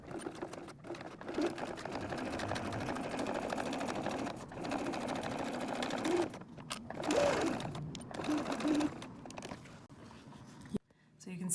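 Sewing machine stitching a card slot onto a cork wallet with a small sharp needle, running in a steady mechanical whir across most of the stretch with brief pauses, a speaking voice over it.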